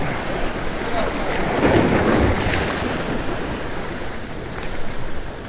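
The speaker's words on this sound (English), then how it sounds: "Oh, and we got all these waves." Ocean waves surge and crash against the rocks of a fishing jetty, a loud continuous rushing wash with swelling breaks, mixed with gusty wind buffeting the microphone.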